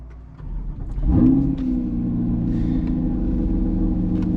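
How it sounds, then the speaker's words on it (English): A Porsche V8 cranks and fires up close and loud, with a sharp rev flare after a second before settling into a deep, steady idle rumble. "Sound of a V8, it really is."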